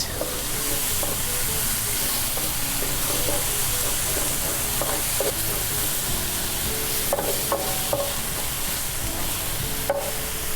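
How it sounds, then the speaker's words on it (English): Chopped small onion cooking in a pot with olive oil, a steady soft sizzle and hiss running throughout with occasional scraping stirs and light clinks, fairly close and alone without talk. "I chopped 1 small onion and I'm just going to cook that until it's translucent."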